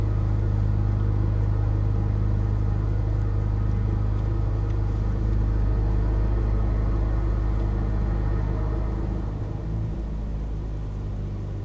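Loud, steady intake whoosh from a car fitted with a cone air filter after an airbox delete, a thick low rumble under broadband rushing air that holds constant and eases slightly near the end.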